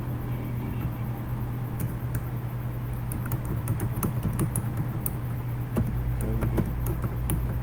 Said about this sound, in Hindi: बिजनेस एक्सपेंसेस मैं टाइप कर रहा हूँ जी